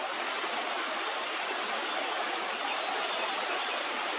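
Creek water flowing through a park in Lancaster County, Pennsylvania, a steady close hiss of running water with no breaks or voices.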